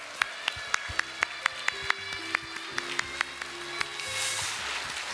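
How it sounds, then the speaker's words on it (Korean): A church congregation claps for its teachers during a Sunday worship service, with sparse, separate hand claps ringing out in an irregular rhythm over a sustained organ-like chord. "다 같이 크게 환호로 좀 박수로 감사를 표했으면 좋겠습니다"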